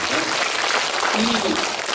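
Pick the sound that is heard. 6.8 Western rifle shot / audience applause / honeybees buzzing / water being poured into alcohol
audience applause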